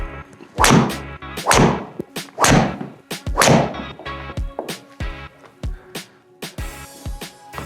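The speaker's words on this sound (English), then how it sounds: "Just hitting a lot of balls today." Golf driver strikes on balls at a practice session, a series of sharp thwacks, the first several loud and close with ringing tails, later ones quicker and fainter, about a dozen in all.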